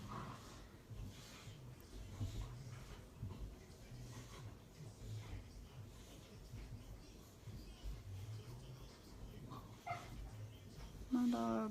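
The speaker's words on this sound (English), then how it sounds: "My dogs are going crazy." Several dogs barking and yipping repeatedly in the background, with excited whimpers between barks and someone talking over them throughout.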